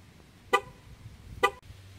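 A car horn gives two short, separate honks about a second apart, moderately loud over quiet background.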